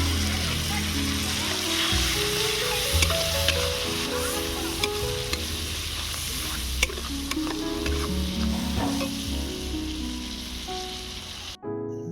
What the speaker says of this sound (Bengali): লঙ্কার গুঁড়ো, পেঁয়াজ আর টমেটোর যে পেস্টটা করেছিলাম সেটা এবারে দিয়ে দেবো